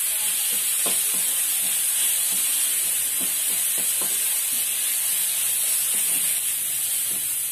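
Tomato and onion sauté in a pan for a Tamil crab curry, giving a loud, steady sizzle and hiss with a few faint clicks of stirring and no talk.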